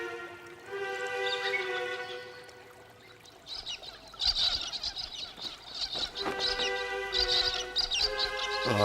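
A squawking gang of birds in the Australian bush, bursts of harsh chirps and calls near and lively, overlapping in clusters with short lulls between.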